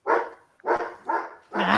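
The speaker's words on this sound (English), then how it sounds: "There's the dogs." Dogs bark in a series of four close, loud bursts with short pauses between them.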